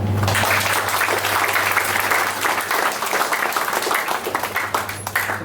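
Steady crowd clapping at a workshop, dense and evenly sustained with a low electrical hum running underneath, the audience applauding together.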